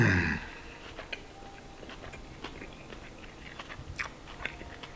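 Close, quiet chewing of a bite of Chinese chicken fried rice with bean sprouts, soft crunches and mouth sounds scattered irregularly after a brief louder noise at the start.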